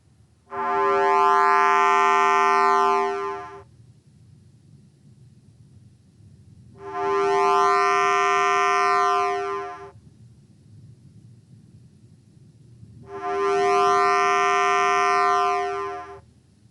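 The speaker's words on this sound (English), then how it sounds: "The cycles themselves are repeating, but you get this sound that grows to it and then shrinks to it." A synthesized tone built from a damped periodic trigonometric function swells and fades in three long repeating bursts, each rising then sinking in pitch, with quiet gaps of faint noise between them.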